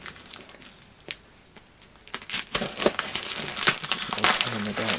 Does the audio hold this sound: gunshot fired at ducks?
no